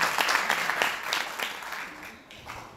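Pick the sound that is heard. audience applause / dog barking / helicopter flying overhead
audience applause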